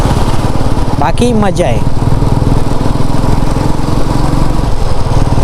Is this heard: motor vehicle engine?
yes